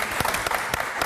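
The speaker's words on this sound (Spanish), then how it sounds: "aplausos para Kimberly, aplausos chicos para ella" Applause for race walker Kimberly García, double gold medal winner, in a Latina TV studio: a brief burst of scattered clapping from a small group, moderately loud and close, with a few sharper individual claps standing out.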